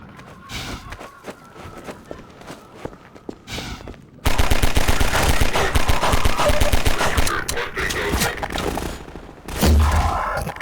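Rapid automatic Combine gunfire in Half-Life 2 VR bursts in loud and dense after a quieter stretch, sustained rattling volleys filling the second half with a heavy thump near the end.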